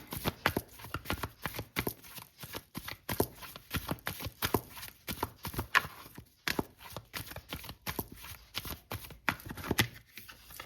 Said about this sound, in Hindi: एक कार्ड और निकालूंगी मैं आपके लिए।